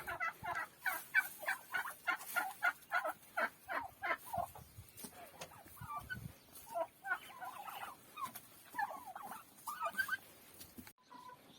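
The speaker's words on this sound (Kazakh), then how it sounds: "күрке тауықтарды бастырам." Farmyard turkeys gobble in repeated rapid bursts, loud and close at first, then breaking into scattered, softer calls mixed with other fowl chatter.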